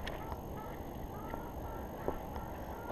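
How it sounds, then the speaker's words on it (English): Faint clucking from a few chickens, used as bait, over a low, steady background rumble, with soft scattered calls now and then. "Let the other chickens out for bait."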